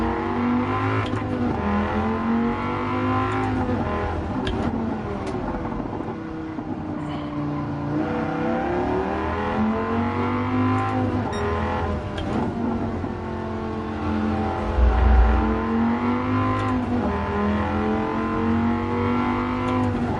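A Dodge Viper races in Gran Turismo 7, its loud engine revving continuously as the pitch climbs and falls through acceleration and gear changes, with a low thump near the end.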